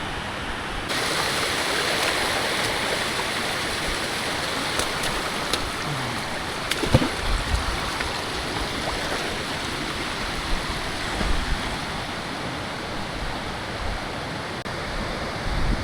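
Rushing water of Kalu Waterfall pours continuously, a steady broad roar that stays even throughout, with no one speaking.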